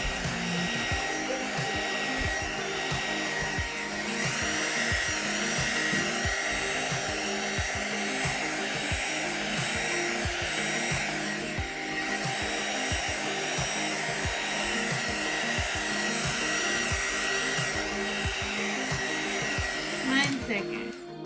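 A handheld blow dryer runs continuously with a steady whirring roar while drying an acrylic pour painting, loud and close throughout, with slight shifts in pitch as it moves.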